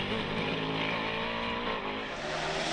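A Norma M20 FC sports prototype with a 4-litre BMW engine screams up a hill-climb course, its loud, sustained engine note rising steadily in pitch as it pulls through the gears.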